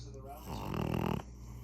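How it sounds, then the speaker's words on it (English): A pug dog snores in one loud, rasping snort that swells and then cuts off abruptly, close by, with faint background hum before and after. "That's the loudest snore for a small,"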